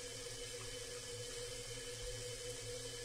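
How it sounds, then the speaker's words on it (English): Shower water runs steadily in the indie horror game The Shower, a soft, even hiss of spray that holds constant throughout with no other sounds over it. "I'm gonna take a shower with the shower curtain open."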